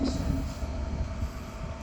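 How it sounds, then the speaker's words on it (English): A Transport for Wales Premier set pulls out of Cardiff Central station, a short, moderately quiet rumble of rolling wheels with a faint squeal at the start. "Leaving now is a Premier set to Manchester Piccadilly, not Swansea, Manchester Piccadilly."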